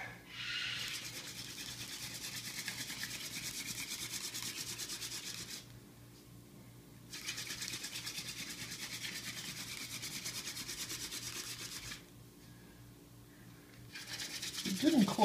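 A mullein spindle spun by hand on a willow board for a friction fire gives steady, close rubbing and grinding noise. Two bursts run about six seconds each, with brief pauses between them, and a short louder scrape comes at the end.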